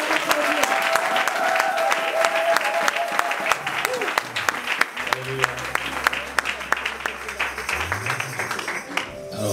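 A church congregation applauds for the Lord, a steady, dense roar of clapping that carries on for several seconds, with bursts of louder claps and a voice speaking over it.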